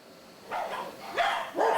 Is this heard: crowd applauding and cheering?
no